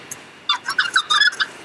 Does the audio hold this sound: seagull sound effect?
yes